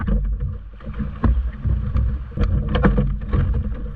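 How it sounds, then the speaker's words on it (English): Dinghy being launched out through ocean surf, with sloshing water, splashes and thumps over heavy wind buffeting on the microphone, loud and close. "we picked a lull in the sets to run out with the dinghy."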